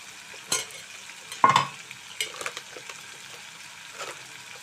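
Ginger and chili powder sizzle softly in a pan, broken by a few sharp scraping stirs of a spoon against the metal.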